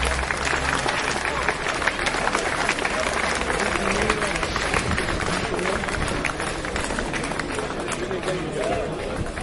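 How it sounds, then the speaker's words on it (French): Audience at the Challenge Educeco 2014 event in Colomiers applauding award winners after a world record, a dense, steady wash of clapping and crowd noise sustained throughout at constant loudness. "Merci de les applaudir très très fort"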